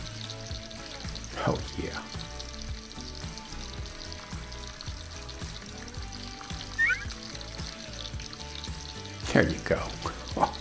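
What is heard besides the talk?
bacon and onions frying together on a griddle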